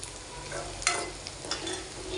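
Food frying in a home kitchen pan, a steady close sizzle with a few louder crackling pops and stirring scrapes throughout, no voices.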